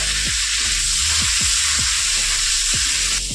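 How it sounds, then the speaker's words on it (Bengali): Cauliflower pieces fry in a pan of hot oil with a little salt and turmeric, giving a continuous loud hiss and sizzle, with spatula scrapes sounding every half second or so, close up and with no voices. "ওই কপিটার মধ্যে আমি দিয়ে দেবো অল্প করে একটু লবণ অল্প করে হলুদ দিয়ে একটু লাল লাল করে ভেজে নেবো"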